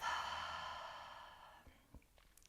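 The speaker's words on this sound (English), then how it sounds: "Take a couple cleansing breaths here, in through the nose and out through the mouth" A slow, calming exhale out through the mouth fades gradually over about a second and a half, close and soft, followed by a few faint clicks.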